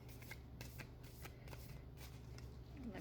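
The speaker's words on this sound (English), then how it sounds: "Let me shuffle one time." Tarot cards being shuffled by hand, a soft papery riffle with quick repeated flicks and taps in an even rhythm, close and quiet against a low steady hum, with no voice over it.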